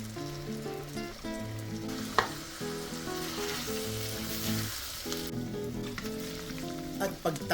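Pork menudo sautés with soy sauce in a pan, giving a dense, continuous sizzle with occasional stirring clatter over a faint tonal background.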